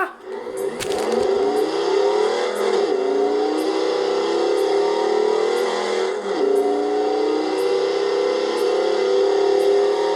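A V10 car engine in the video game Forza Horizon 4 screams loudly and steadily at high revs, climbing through gears with a couple of short dips at the shifts.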